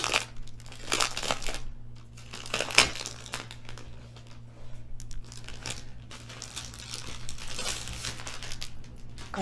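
Paper packaging crinkles and rustles in close, irregular bursts of crackling, with quieter pauses between handling sounds at a crafting table.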